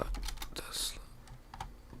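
Keys clattering on a computer keyboard during a live trading stream, irregular close taps with a brief burst of faster typing, heard alone without talk.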